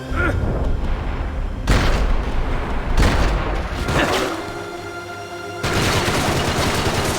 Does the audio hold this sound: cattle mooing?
no